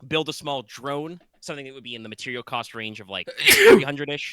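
A single close, sharp sneeze bursts out near the end, breaking into steady conversation between people.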